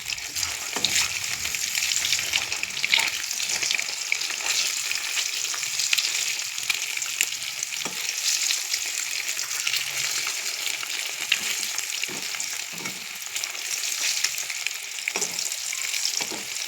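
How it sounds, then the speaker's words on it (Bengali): Peeled boiled eggs frying in hot oil in a pan, a continuous bright sizzle with occasional stirring scrapes and taps, no voices. "ডিমগুলো ছেড়ে দিলাম, এবার ভেজে নেব।"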